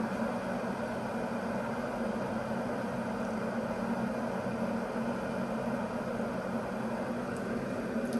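A 1.7 litre glass and stainless steel electric kettle boiling water makes a steady, even rushing roar with no distinct bubbles, constant in level from start to finish.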